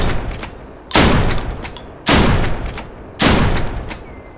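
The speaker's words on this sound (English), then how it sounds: "Pump action shotgun, one of my favorites in the beginning" A pump-action shotgun in Deadside fires three heavy, booming shots at steady intervals of about a second, each blast loud and close with a decaying tail.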